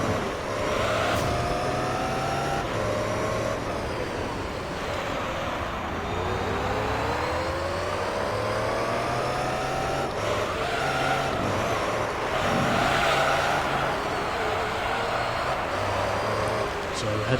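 Race car in Gran Turismo 3 accelerating hard through the gears, engine pitch climbing and dropping at each shift over steady tire and road noise, with someone talking over it.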